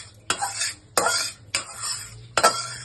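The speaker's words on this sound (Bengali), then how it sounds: "এখন তেলটা এখানে মেশাবো" Oil is stirred into a bowl of Dalle chilli pickle, with four distinct scraping, sloshing strokes of a spoon in an even rhythm, close and fairly loud with no talk.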